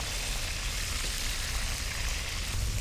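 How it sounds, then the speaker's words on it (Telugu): Marinated fish deep frying in hot oil for a gongura fish curry, giving a steady, dense sizzle and crackle that holds evenly throughout with no talking. "సో ఫిష్కి సంబంధించి మ్యారినేట్ చేస్తాం, తర్వాత డీప్ ఫ్రై చేసుకుంటున్నాం"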